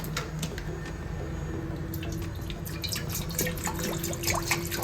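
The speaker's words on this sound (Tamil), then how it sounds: "அதுக்கப்புறம் நம்ம தண்ணி ஊற்றிக்கலாம்" Water splashes and trickles into a cooking pot on the stove in a steady stream, with small drips and clinks, close by, as water is added for tomato rasam.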